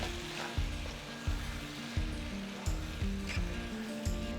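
Ghee sizzles in a pan with mutton pieces for Rajasthani Laal Maas, a soft steady frying hiss punctuated by regular low thumps from stirring about every half second to second.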